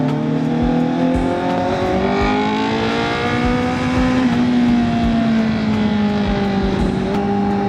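A Honda CB650R middleweight motorcycle revs and accelerates hard, its engine note climbing steadily and then easing through gear changes. The bike is loud and close, with a continuous rising whine and no speech.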